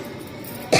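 A woman gives a single short, sharp cough at close range, sudden and loud after a moment of quiet room tone.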